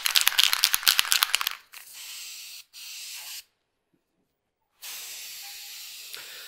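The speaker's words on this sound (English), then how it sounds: "So go ahead and spray that there" A spray gun blows paint onto a cabinet door lying face down on a rack, a loud steady hiss for under two seconds, then softer hissing bursts that cut out and resume after a silent gap.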